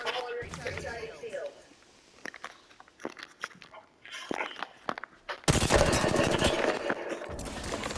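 Rapid bursts of video-game gunfire crackle through the clip, sharp clustered shots that grow denser and louder toward the end, mixed with people talking.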